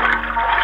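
An animated blue whale spouts water in a brief, loud, rushing gush of liquid that lasts under a second, with no talking.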